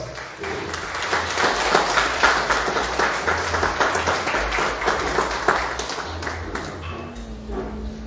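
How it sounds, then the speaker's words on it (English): An audience claps at an awards ceremony as a winner is called up, a sustained crowd of hands with a few sharper individual claps standing out, and a faint voice under it near the end. "Round of applause."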